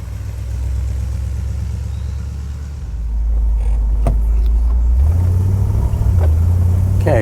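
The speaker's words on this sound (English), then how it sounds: "we will start in second gear, and then it will automatically shift into third" A 1949 Oldsmobile 88 Futuramic with a refurbished Rochester carburetor drives along with a steady, close engine drone, then changes tone as the automatic gearbox shifts into the next gear and settles into a lower hum.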